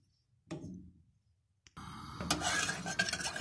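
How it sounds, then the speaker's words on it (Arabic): Muhallabia milk pudding being stirred in a pot on the stove: one spoon scrape, a pause, then continuous stirring and scraping against the pot, close and moderately loud. "هنفضل نقلب فيها كده على طول، يعني ايدك فيها على طول ما هي على النار"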